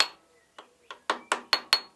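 A hammer taps a metal part down on a Stuart 10V steam engine model, six sharp, ringing strikes at a steady, quickening pace, close and distinct with quiet gaps between them.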